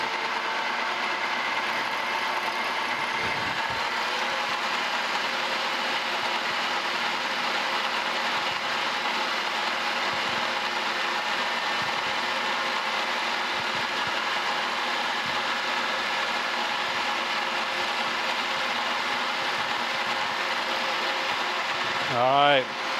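An old, worn high-speed steel bit cuts metal on a restored metal planer, giving a steady, loud mechanical grinding and clattering drone with rhythmic ratcheting knocks that runs throughout, ending in a brief rising whine.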